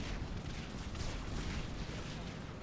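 Scripted battle gunfire in Mass Effect 3, a dense, muffled rumble of distant shooting and booms that stays constant and fairly faint throughout, with no distinct single shots.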